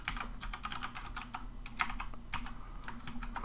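Fingers type steadily on a compact computer keyboard during a programming lesson, a quick run of close, crisp key clicks over a low constant hum.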